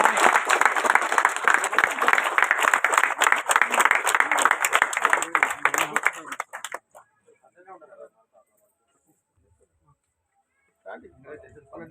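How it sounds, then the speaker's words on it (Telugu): An audience at a panchayat meeting applauds loudly for several seconds, then the clapping stops abruptly. Quiet follows, with faint talk and scattered noises afterward. "అందరూ చప్పట్లు కొట్టాలి."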